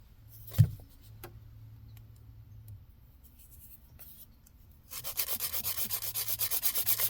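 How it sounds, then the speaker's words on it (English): Polygel nails being filed with a hand nail file: after a quiet stretch with a few small knocks, steady rapid rasping strokes start up close and keep a brisk, even rhythm to the end. "And then I'm just going to start filing away."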